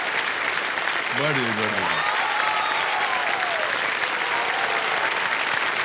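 A studio audience on a TV quiz show claps continuously and densely throughout, while the host speaks briefly over the applause.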